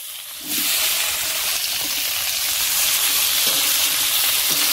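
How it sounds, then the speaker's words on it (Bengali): Pointed gourd pieces hit hot oil tempered with bay leaf, setting off a sudden loud, steady sizzle that continues without a break, with a few faint stirring knocks from the pan underneath. "পটলগুলো হালকা করে ভেজে নিয়ে"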